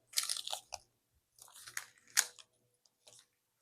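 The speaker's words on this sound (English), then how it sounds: "I love the crunch. I do love crunchy chickpeas." Close, crisp crunching of sea salt and lime roasted chickpeas being chewed, in several dry bursts with brief quiet gaps between bites and no talking.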